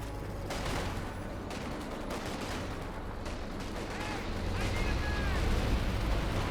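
Company of Heroes battle with an artillery barrage, dense overlapping blasts and crackling gunfire rumbling continuously and building louder toward the end, with a commentator talking over it.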